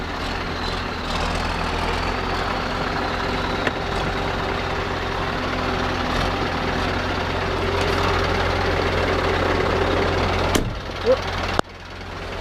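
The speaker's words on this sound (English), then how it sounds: "So now you can hear her running." A 3690 tractor engine runs close by with a steady, deep idling rumble throughout, ending in a couple of sharp clunks near the finish.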